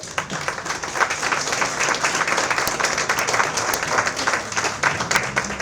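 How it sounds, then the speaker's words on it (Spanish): A crowd applauds steadily, a dense wash of many hands clapping at even loudness throughout, with no voices over it. "os pedimos, por favor, un fuerte aplauso"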